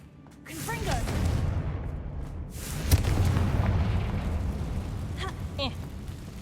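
In Hogwarts Legacy, a Confringo spell sets off booming blasts inside a mine, with a rumbling explosion swelling and a sharp crack near the middle, mixed with in-game creature squeals and effects.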